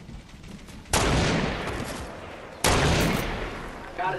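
Two loud bursts of gunfire in a Fortnite match, each a sharp blast that rings out and slowly decays, spaced under two seconds apart.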